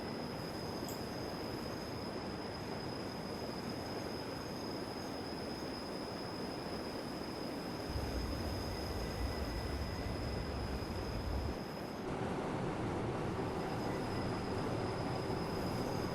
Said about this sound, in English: Here you can see the train curving up ahead.